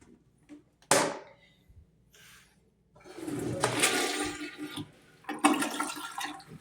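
A toilet in a renovated rental flushes loudly up close with a rushing gurgle and swirling water that surges twice, after a short clank of the handle.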